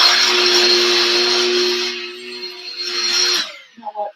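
Vacuum cleaner running over a rug, a loud steady droning whine close by that fades and stops near the end, followed by a few soft knocks.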